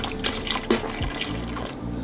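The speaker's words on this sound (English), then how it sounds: "take the rest of your cream soda and mix it into there" Cream soda poured into a butterbeer drink mix, a short close liquid pour with splashy trickling and dripping, steady and alone.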